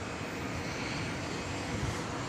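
A jet airliner, flight 730 bound for Doha, roaring steadily at DFW Airport at night, a broad continuous engine rumble that stays loud and even throughout.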